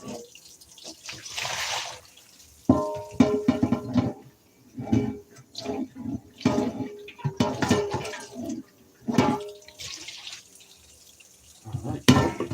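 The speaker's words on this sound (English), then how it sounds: "Rinse this one more good time." Hot tap water runs into a kitchen sink during rinsing, splashing in uneven bursts that start and stop, with a person talking over it at times.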